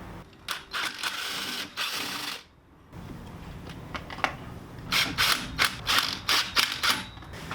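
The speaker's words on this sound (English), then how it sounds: "I'm gonna back 2 of these screws out here and then put this in and re-secure it." Screws being backed out of a plastic trashcan composting bin, giving bursts of mechanical ratcheting clicks and scraping with short pauses, close and fairly loud, with no talking.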